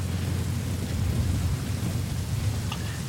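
Steady rain in Metal Gear Solid Ground Zeroes, a dense continuous hiss with heavy low rumble throughout, even and unbroken, with no voices.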